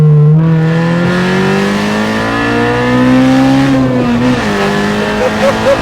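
A Honda Civic Type R VTEC engine swapped into a Citroen AX shell revs hard and loud, its rising engine note climbing steadily with a shift near the end, heard up close from inside the car with little else over it.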